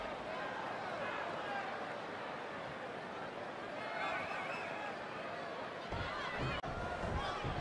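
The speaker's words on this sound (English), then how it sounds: "Listen to this crowd, guys. They're fired up for this one." A wrestling event crowd cheering in an arena, a dense, steady roar of many voices held at an even level throughout, distant and diffuse, with rising excitement toward the end.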